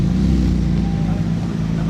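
A Mercedes SLR 722 supercar engine rumbling at Casino Square in Monaco, a loud, close, low steady drone with little change, heard alongside voices nearby.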